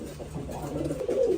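A pigeon coos at a pigeon farm, a low, soft, throaty murmur that swells slightly and runs on steadily for a moment, fairly close and with no talking over it.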